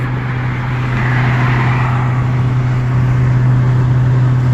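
A turbocharged Honda Civic EM1 cruising, heard from inside as a loud, steady low engine drone with constant road and wind rush and no distinct revs or shifts.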